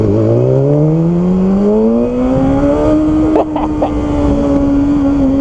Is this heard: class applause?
no